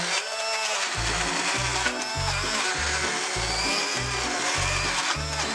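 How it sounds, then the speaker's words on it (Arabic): A hand blender whirs in repeated short pulses as it mixes chocolate spread with biscuits, buzzing in rhythmic bursts about twice a second at close range. "ونبلش نضربهم بالخلاط. أنا استخدمت الهاند بلندر"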